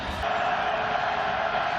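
Spectators at a 2023 college football game between New Mexico and Boise State cheer in a brief, steady, loud roar filling the whole stadium.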